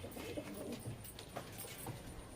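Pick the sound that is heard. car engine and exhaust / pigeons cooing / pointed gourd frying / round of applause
pigeons cooing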